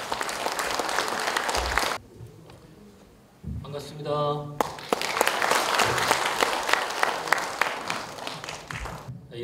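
Audience applause greets the president of a Buddhist temple association at an outdoor lantern festival pagoda lighting ceremony in Muan, with broadband clapping filling most of the clip, briefly broken by a short spoken greeting over a tonal pause.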